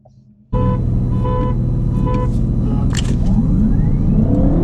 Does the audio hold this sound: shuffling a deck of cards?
no